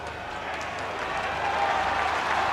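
Rugby crowd at Scotstoun applauding a Glasgow Warriors defensive stand against Ulster, steady broad clapping and crowd noise swelling slightly louder toward the end, heard beneath a commentator's voice.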